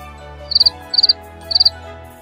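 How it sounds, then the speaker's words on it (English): Three short bursts of high, rapid cricket chirping, each a quick trill of pulses, evenly spaced over a steady low background hum. "when you hear the sound of the cricket chirping"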